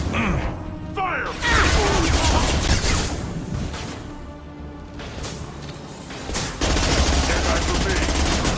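Squad gunfire in the Mass Effect 2 video game, dense bursts of rapid shots crackling in two loud stretches with a quieter gap between, mixed with mechanical clatter and faint voices.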